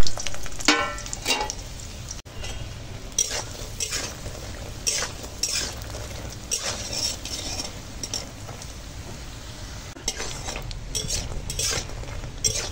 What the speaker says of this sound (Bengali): এখন এই বড়িটা ভেজে নেব।